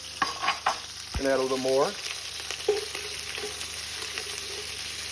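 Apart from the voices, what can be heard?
onions frying in a pan for turkey neck gravy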